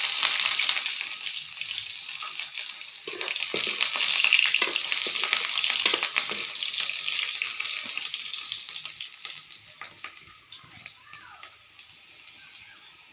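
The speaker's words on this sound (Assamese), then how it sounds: "তেল চিটিকিছে বহুত।" Chopped onions spattering and sizzling in hot oil in a fully heated kadhai, a dense close crackle with stirring scrapes that swells midway and slowly eases off, no talk.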